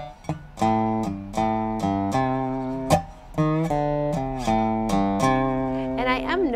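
A dobro, a resonator slide guitar, plays a C blues lick. Plucked, sliding notes ring out in a steady phrase, close and clear, with no talking.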